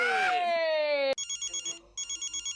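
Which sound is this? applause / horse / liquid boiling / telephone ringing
telephone ringing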